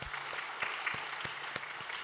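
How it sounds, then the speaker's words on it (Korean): A church congregation applauds during a Sunday worship service, a brief, steady patter of clapping from a crowd. "박수 하시겠습니다."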